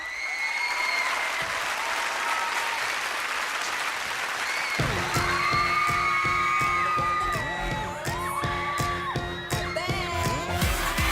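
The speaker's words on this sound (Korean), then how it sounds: "여러분들 큰 박수로 환영해 주세요" A studio audience at a K-pop music show claps and whoops to welcome a group before they perform a song, loud and continuous applause, with the song's beat and melody kicking in partway through under the ongoing crowd noise.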